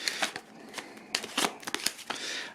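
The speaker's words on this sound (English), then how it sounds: "So these ones you take them and you do a quick shuffle of them." A deck of game cards gets a quick shuffle at a tabletop, crisp riffling bursts and slaps in short uneven clusters, close and fairly quiet, with no one speaking.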